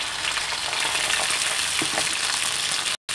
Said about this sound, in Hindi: तेल गर्म होते ही हम जीरा ऐड करेंगे और अब हम अपने परवल को इसमें डाल देंगे